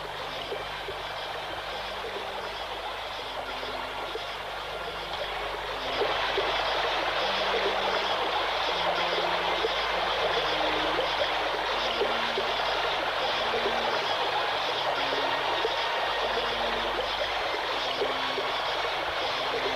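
River water rushes and gurgles in a steady, full wash that swells louder partway through, with no voices over it.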